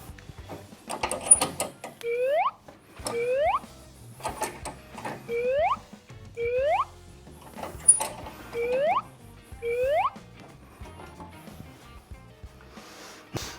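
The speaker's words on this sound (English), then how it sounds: "we're gonna go ahead and jack it up to give us more room to work" A jack lifts a Harley M8 Softail motorcycle with a regular series of about nine pumping strokes. Each stroke ends in a rising mechanical squeak over light clanking, close by and without speech.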